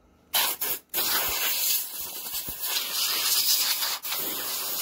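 Compressed air blasts steadily through the recoil starter of a Briggs and Stratton lawnmower engine, a loud, close, continuous spraying hiss with a few brief breaks, and no talking.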